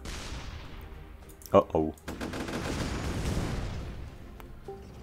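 Cannon shots and explosions in the artillery video game ShellShock Live: a couple of sharp blasts followed by a long rumbling barrage of impacts, with someone speaking briefly over it.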